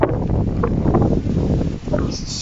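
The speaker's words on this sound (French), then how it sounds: "il y a du vent encore" Gusty wind buffets an outdoor vegetable garden during spring sowing, a steady low rumble of microphone wind noise persisting throughout, with a person speaking over it.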